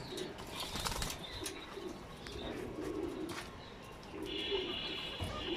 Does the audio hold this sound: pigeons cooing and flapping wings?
yes